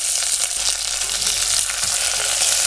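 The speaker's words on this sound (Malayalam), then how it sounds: "നമുക്ക് കറിവേപ്പില ഇട്ട് കൊടുത്ത് ഇഞ്ചിയും വെളുത്തുള്ളിയും ഇട്ട് കൊടുക്കുവാണ്." Ginger and garlic sizzle in hot oil with curry leaves for a lemon pickle, a steady, dense frying crackle that fills the short stretch without any voices.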